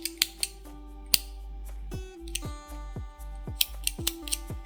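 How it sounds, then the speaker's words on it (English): Scissors snip yarn at the end of a crochet flower bouquet, with a few sharp close snips among light handling and tonal background sounds, no voice. "snip our yarn off"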